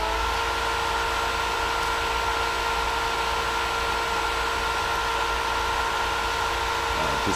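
A water pump runs at maximum speed, 3,450 RPM, against about 25 to 30 feet of total dynamic head, giving a steady, loud, continuous hum and whir with a constant tonal drone and no pauses throughout.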